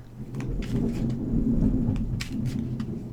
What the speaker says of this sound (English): And yes, you are hearing thunder.